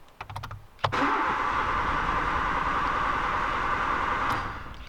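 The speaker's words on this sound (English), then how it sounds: "So I'm going to crank up the engine" A Nissan Micra engine cranks steadily without catching, a continuous loud starter whirr lasting several seconds after a few brief clicks, then tapering at the end; no talking.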